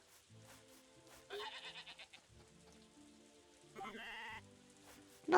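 Cartoonish sheep bleats from the farming video game Story of Seasons: A Wonderful Life, two wavering bursts over soft game music, moderately loud and close, with no talking.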